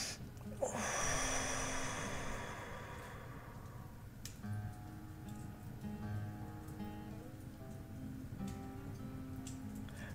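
One slow, deep breath drawn in close to the microphone, a soft airy rush that fades into quiet background, with no voices.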